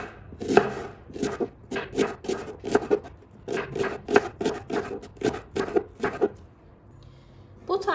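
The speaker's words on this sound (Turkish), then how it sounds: "Soğanı öncelikle ikiye daha sonra tekrardan ikiye bölüyorum. İnce ince dilimliyorum." A knife thinly slices an onion rapidly against a cutting board, a quick series of crisp, even chops close up, stopping near the end.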